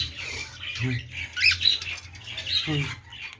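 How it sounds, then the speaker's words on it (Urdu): A male parrot squawks and calls to its mate, giving sharp, close chirps and screeches in bursts over a noisy background. "وہ طوطا مادی کو بلا رہا ہے"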